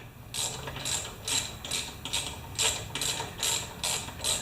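Ratchet wrench working on the flywheel of a Poulan Pro mower, giving about nine evenly spaced bursts of sharp, close clicking, each a quick back-and-forth rasp of the pawl, with no talk.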